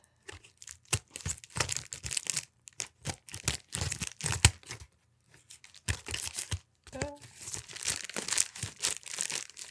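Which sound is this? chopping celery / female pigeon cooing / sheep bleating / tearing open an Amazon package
tearing open an Amazon package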